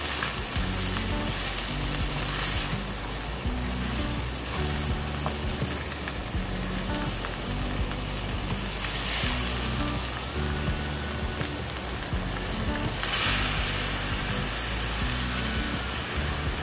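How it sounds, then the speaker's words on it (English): Frozen vegetables sizzle loudly and continuously in a pork ramen teriyaki stir fry, with a steady frying hiss and occasional stirring scrapes close by throughout. "And I'm adding my frozen vegetables."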